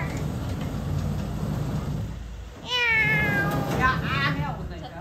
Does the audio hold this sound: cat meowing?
yes